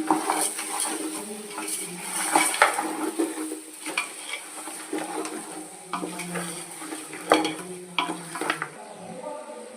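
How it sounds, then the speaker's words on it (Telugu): Mutton biryani marinade being mixed with salt in a metal pot, irregular scraping and clinking of a spoon against the vessel with soft wet stirring, close and moderately quiet, no talking. "ఇప్పుడు బాగా కలుపుకుందాము"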